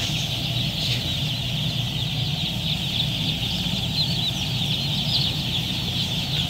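Kadaknath chickens on a poultry farm, many birds clucking and calling together in a steady, dense flock chatter, with a low hum from heaters running underneath.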